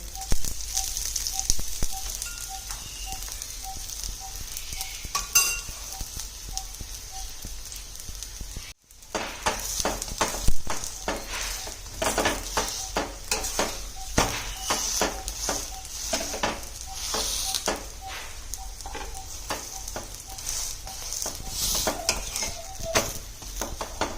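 A green onion paratha pan-roasts in ghee or oil on a low flame with a steady close sizzle, while frequent scraping and tapping from a spatula on the pan runs throughout, after a brief cut near the middle.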